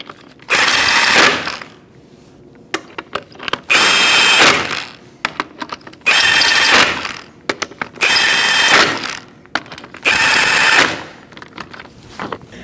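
An impact gun tightens the wheel lug nuts on a Chevrolet Colorado in a crisscross pattern, with five loud, rattling bursts of about a second each separated by short pauses and clicks.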